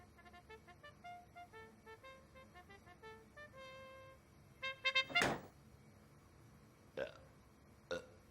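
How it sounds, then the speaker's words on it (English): A window blind knocks against a window at night, producing several hollow, burp-like thuds. A few soft taps come first, then a loud cluster in the middle and two isolated bumps later, in a quiet room with faint tonal hum. "The blind hitting the window made the sound of burping."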